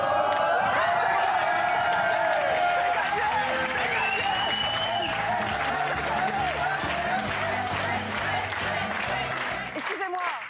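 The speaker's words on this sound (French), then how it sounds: "Vous avez quand même conscience que vous applaudissez un escroc en slip." A studio audience on a French TV talk show claps, cheers and whoops, a dense, loud wash of crowd noise that fades slightly toward the end.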